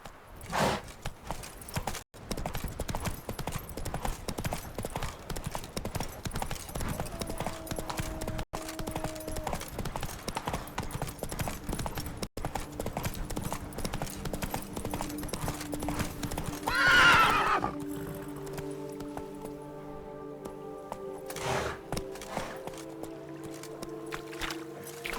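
Roach, Geralt's horse in The Witcher 3: Blood and Wine, gallops with steady clip-clopping hoofbeats and neighs near the end, over ambient game noise and music.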